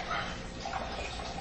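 Beef broth for chili pours into a can in a steady, continuous liquid rush with no pauses, moderately loud and close.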